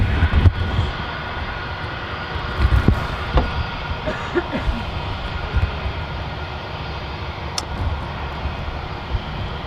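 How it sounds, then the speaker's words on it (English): A British Airways airliner on approach to Manchester Airport drones steadily as a distant engine rumble under a few faint background sounds, with no talking. "it definitely was an easy approach for the British Airways pilots coming from Heathrow to here"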